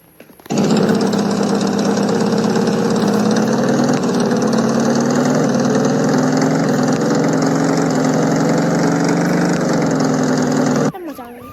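Motorbike engine in the Rope Hero Vice Town game on Android, a loud steady droning hum starting abruptly and running evenly for about ten seconds before cutting off, with no talk over it.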